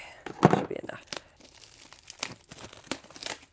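Plastic shrink wrap peeled off a book, with close crinkling and tearing bursts that come in irregular clusters, loudest near the start and scattered through the rest.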